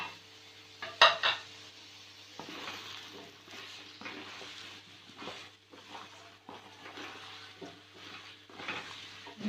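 Food being stirred in a cooking pot after ginger-garlic paste goes in, with a steady run of soft scraping and clinking strokes over a faint sizzle, fairly close, no talking.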